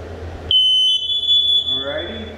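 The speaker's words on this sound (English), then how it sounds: "Smoke alarm number four." A smoke alarm under test sounds a loud, shrill electronic beep suddenly and holds steadily for about two seconds, with faint talk starting underneath.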